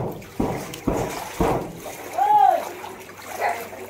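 Three rhythmic splashes of someone swimming through floodwater on a city street, close by, followed by a voice calling out and lapping water underneath.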